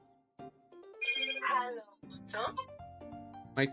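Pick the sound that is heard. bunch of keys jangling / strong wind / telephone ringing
telephone ringing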